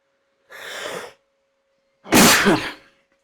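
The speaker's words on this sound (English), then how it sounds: "I think I need another sneeze." Two sneezes close up, a softer breathy one followed after a pause by a louder, sharper burst.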